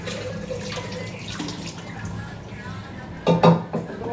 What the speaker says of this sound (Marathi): धुवून घेते तांदळाला.